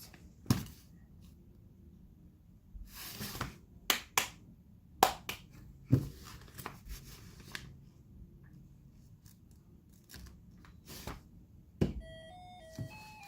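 Hand claps aimed at a Snap Circuits whistle chip sound as scattered sharp snaps close by, spread irregularly across a quiet room, followed near the end by a brief high electronic whistle.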